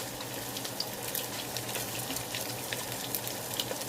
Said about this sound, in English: this is some salt pork here that I'm putting into that grease because I'm going to fry these down